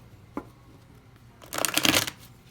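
Tarot cards being shuffled by hand, a single quick tap followed by a brisk riffling burst of about half a second, close and fairly loud in an otherwise quiet room.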